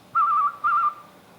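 A person whistles two short, bright, evenly spaced bursts in imitation of a phone ringing, loud and close with brief silence between.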